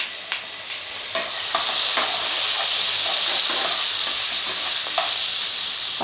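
Ginger and garlic sizzle steadily in hot oil in a frying pan while cooking a ridge gourd masala, a continuous loud frying hiss with a few sharp crackles and stirring clinks near the start.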